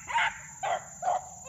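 Beagles trailing a rabbit bay in three distinct, drawn-out howling calls at a steady pace, clear and moderately near, over faint background noise.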